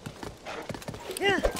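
Horse hooves clip-clopping at a gallop in Zelda: Tears of the Kingdom, a steady rhythmic patter under a man's German speech, with a brief whinny-like tone near the end.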